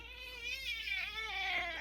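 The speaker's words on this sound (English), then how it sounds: "cats, or more specifically, feline catus" A domestic cat meows in one drawn-out, wavering call lasting nearly two seconds, close and clear with rising and falling pitch, alone without talk.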